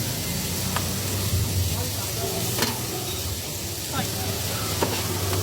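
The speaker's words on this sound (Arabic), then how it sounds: "بدات ريحه الفلفل تطلع، تشوح، مش بغمق لونه ومش بحرقه اهو" Minced garlic and peppers sautéing in a pan for an Alexandrian-style chicken liver and gizzard dish give a steady, soft sizzle with occasional stirring scrapes, while a voice speaks briefly over it.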